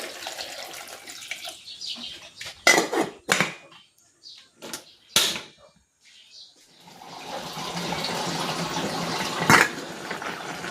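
Water run and splashed into a pot for boiling six ripe saba bananas, close clattering and pouring in uneven bursts, then a steady rushing stream of water near the end.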